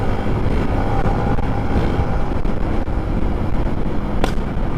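A motorcycle rides along with steady wind and engine roar, and a single sharp pop from the exhaust cracks out near the end.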